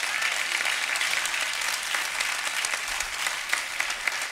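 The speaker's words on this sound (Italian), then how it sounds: "a cui riserverei ancora un grosso applauso" Sustained theatre audience applause for a live band at a charity concert in a venue, dense steady clapping filling the whole stretch, fairly loud with a few sharper individual claps near the end.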